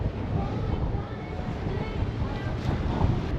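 Strong wind buffets the microphone on the open deck of the cruise ship Jewel of the Seas, a steady, dense roar with water and waves faintly beneath it.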